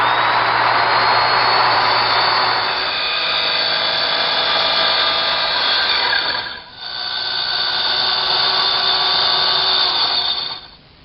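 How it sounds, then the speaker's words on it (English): A small circular saw crosscuts plywood, a loud high whine that runs through one long cut, dips briefly, then runs again before winding down. "I'm going to use a small circular saw and a square to help guide me to make the crosscuts."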